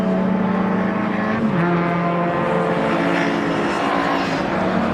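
A race car at speed during qualifying at Brands Hatch, coming through the Graham Hill bend, gives a loud, sustained engine drone with a steady pitch that dips and drops slightly as it passes, alone without talk.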